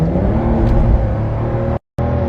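A car engine pulls hard under acceleration, a loud, rising rev with a brief sharp dropout near the end before the engine noise resumes; no voices over it.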